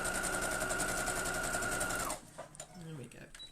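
A sewing machine stitches down a quilt block seam, a steady close whir for about two seconds before stopping, followed by quiet handling noises and a faint voice.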